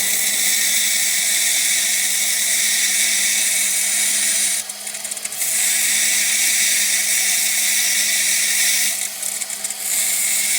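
A rotary carving tool spinning at 7,000–10,000 RPM on a Deer Creek fire agate under light pressure, a loud, steady high-pitched whine that dips briefly twice as the bit lifts off the stone.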